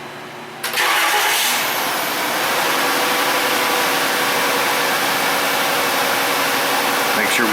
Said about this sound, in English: It is misfiring quite badly now. Seems to be on about 1 cylinder.